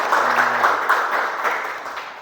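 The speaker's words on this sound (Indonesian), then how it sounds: "kasih tepuk tangan" A classroom group gives a brief burst of clapping, a short dense patter that fades out within a couple of seconds, close and fairly loud with no talk over it.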